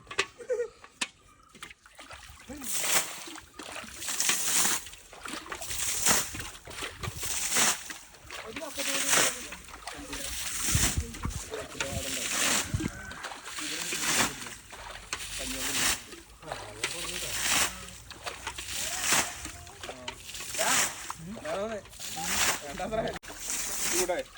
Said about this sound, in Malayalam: നമ്മളിങ്ങനെ ഒരു ഗ്യാപ്പിട്ട് വെള്ളം മുക്കി അങ്ങോട്ട് ഒഴിച്ചു